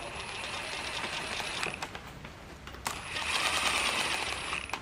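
A ratchet wrench clicks rapidly while torquing down ARP main stud nuts on an LS crankshaft in an engine shop, steady metallic ratcheting close by, with a brief pause and a sharp clack midway.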